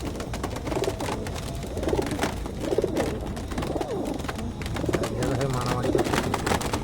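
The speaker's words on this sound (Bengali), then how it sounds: "এই দেখুন এই পায়রাগুলোকে আজকে ওড়াবো" Caged pigeons cooing ahead of an Independence Day release, repeated throaty coos from several birds close by, with someone talking intermittently over them.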